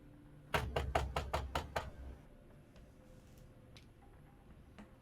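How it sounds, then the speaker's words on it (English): Knocking on the front door of a house, seven quick firm raps in a steady run, close and clear, followed by quiet room tone with a few faint ticks. "It's a good knock."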